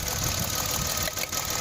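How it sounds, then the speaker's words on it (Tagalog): A 2017 Mitsubishi Mirage engine idles roughly with a faltering, uneven running note, a steady close rumble that briefly dips and sags as if about to stall, no voices over it. "kita mo naman namamatay yung makina"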